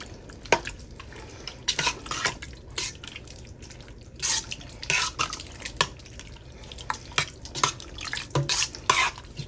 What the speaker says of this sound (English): Stir it, and then